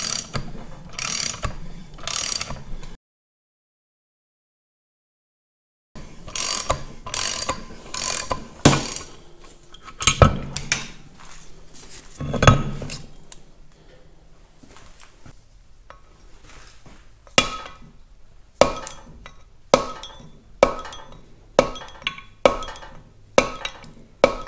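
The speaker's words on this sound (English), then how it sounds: "We are set up to push on the end of the main shaft." A gear puller on a Caterpillar D2 dozer chassis pushes out the main shaft, producing repeated metallic ratcheting clanks and clicks in irregular bursts, then a regular series of sharp clacks toward the end, with one silent gap.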